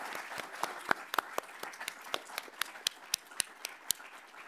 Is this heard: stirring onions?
no